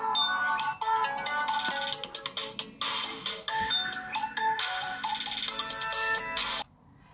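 A phone ringtone plays loudly and continuously for several seconds, a bright repeating melodic tune announcing an incoming call during a paper craft session, then cuts off abruptly near the end.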